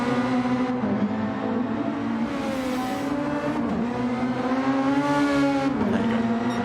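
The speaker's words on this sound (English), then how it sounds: "Here's some cars" Formula cars in a Super Formula sim racing game at Circuit de Spa-Francorchamps, engines holding a loud, steady high whine that rises and dips with gear changes, continuous throughout.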